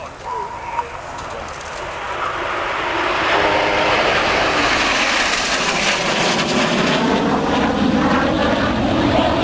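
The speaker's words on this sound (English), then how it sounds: "The team will use the power of their Rolls-Royce Ador engines to change formation before passing in front of you in line abreast" Red Arrows jets with Rolls-Royce Adour engines at an air show, a jet roar building from a distance into a loud, sustained whoosh as the formation passes, with brief voices at the start.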